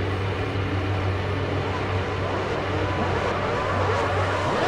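Formula One cars in the F1 2006 racing game pulling away from the grid for the parade lap at Indianapolis, a steady, dense engine drone with low tonal hum, continuous and fairly loud throughout.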